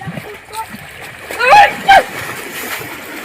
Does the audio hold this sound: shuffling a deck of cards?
no